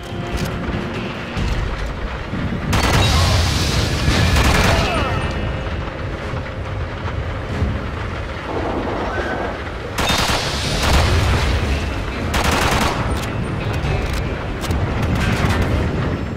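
Shotgun gunfire in the video game Quantum of Solace, a sequence of loud booming blasts with heavy rumbling mechanical game noise between the shots.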